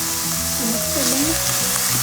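A sautéed mixture for chicken bread sizzling steadily in a pan, a dense close hiss with a faint low voice murmuring underneath.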